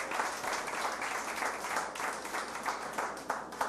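A church congregation applauding during a Sunday service, a steady dense patter of many hands clapping together, filling the room without pause.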